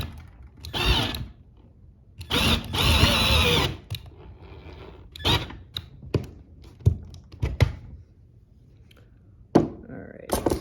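A power drill driving screws with washers into a Pipishell PILFK1 full-motion TV mount, in short loud whirring bursts separated by pauses, with thunks and handling taps between them.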